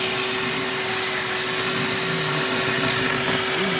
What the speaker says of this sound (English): He's vacuuming over here.